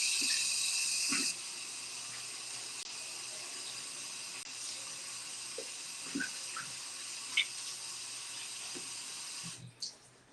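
Steady running water from a bathroom sink tap while face cleanser is rinsed off, a continuous hiss with a few soft splashes and light knocks near the end, no voices.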